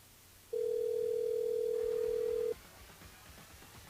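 A single steady telephone tone sounds for about two seconds during a live radio call-in show, clear and electronic, followed by quiet line noise.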